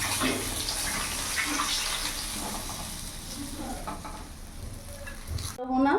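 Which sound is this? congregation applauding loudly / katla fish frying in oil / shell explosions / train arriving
katla fish frying in oil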